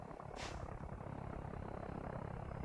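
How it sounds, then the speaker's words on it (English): A video game helicopter's steady, droning rotor rumble fills the whole stretch, loud and unbroken, with no voices over it. "is that a helicopter I can hear?"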